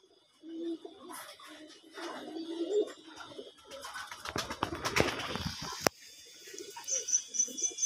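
High flyer pigeons coo softly in short low murmurs, with a burst of rustling, flapping-like noise in the middle and faint high insect-like trilling near the end.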